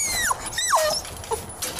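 Labrador puppies whimpering and squealing in a few short, rising high-pitched yelps, close and fairly loud against faint room noise.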